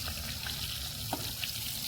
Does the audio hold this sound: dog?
no